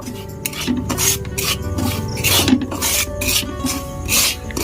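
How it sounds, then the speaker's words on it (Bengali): Semolina fried in ghee in a wok over a low flame, stirred with steady, rhythmic scraping and rasping strokes that repeat every half second or so, close and fairly loud, with no talking. "সুজিটাকে আমি 2 থেকে 3 মিনিট হালকা করে একদম লো ফ্লেমে ভেজে নেব।"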